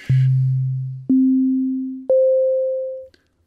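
Synthesized notes from Sonic Pi step upward in three clean, sustained electronic tones about a second apiece, each fading slightly, the last landing on a higher C before stopping.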